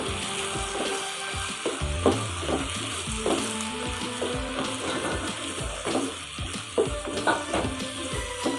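Peas and tomato chutney fry in a pan with a steady, moderately loud sizzle, while a spoon scrapes and stirs at irregular intervals.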